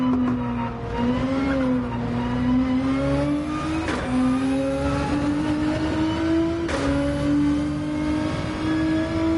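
Gran Turismo 7 race car engine on a hot lap, a loud, close revving drone that climbs steadily through the gears with two sharp shift breaks, tyres hissing underneath.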